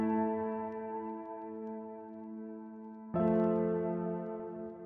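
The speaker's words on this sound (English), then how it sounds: "So this is the piano without the EQ." Soft sustained piano chords without EQ, fairly quiet and a bit muddy, one chord ringing and decaying before a second chord strikes about three seconds in.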